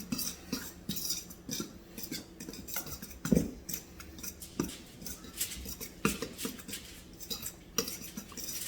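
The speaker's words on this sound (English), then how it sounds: "I want to give that a whisk and stir it up." A fork scrapes and clinks against a bowl while stirring a seasoning mixture for fried chicken in a home kitchen, with steady rhythmic metallic taps close by and no talk.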